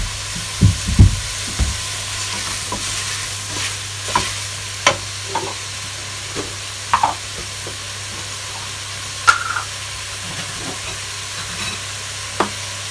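A spoon stirs pumpkin rice in a pot, giving scattered scraping knocks and clicks against the pot over a low, steady background hum.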